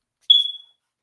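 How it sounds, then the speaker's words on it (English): A dying smoke alarm gives a single short, high electronic chirp that fades quickly, followed by silence. "I think my fire alarm's dying over there. It's been making noises today."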